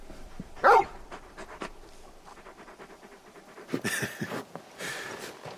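Dog panting in the video game Final Fantasy XVI, a big hound giving quick breathy pants with a short whimper-like burst near the start, followed by quieter rustling and soft movement sounds.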